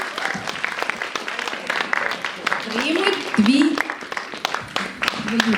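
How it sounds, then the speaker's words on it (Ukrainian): Steady applause from a concert audience for the winners, dense clapping throughout, with a voice briefly calling out over it midway. "Будь ласка, аплодисменти, переможці нашого."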